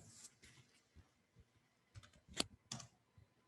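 Quiet keystrokes on a computer keyboard while entering data in an Excel spreadsheet, a few soft clicks with a couple of sharper taps near the end.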